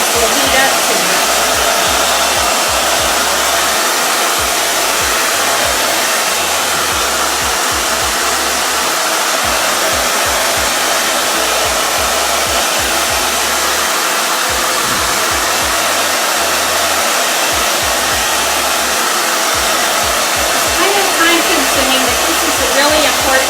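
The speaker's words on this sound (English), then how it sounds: "Hit it with a warm dryer." A hair dryer blows steadily and loudly throughout, a constant rushing whir of air with no pauses.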